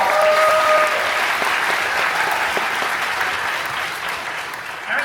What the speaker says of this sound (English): Now I know I'm going to get some applause.